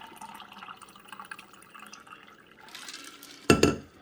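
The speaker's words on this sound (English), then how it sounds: "let's see how the pitcher pours" Iced tea poured from a Mr. Coffee tea maker pitcher, a soft liquid trickle that swells into a brief, louder splash of pouring near the end.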